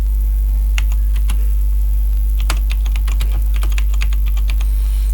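Computer keyboard typing in Excel: scattered quick keystrokes in short bursts, close and crisp over a constant low electrical hum.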